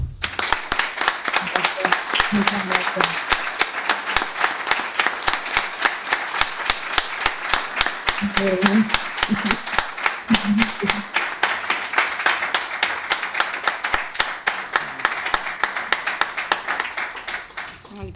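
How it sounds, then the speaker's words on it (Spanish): A long, sustained round of audience applause at a university lecture, dense and steady throughout, with a brief spoken thanks heard over the clapping partway through. "este aplauso por tu valentía y por trasladarnos todo esto"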